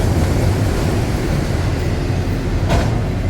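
A long freight train passes close by in Lapeer, and there is no distributed power unit in the consist. It makes a loud, continuous rolling rumble of wagons with a steady clatter and a brief metallic squeal near the end.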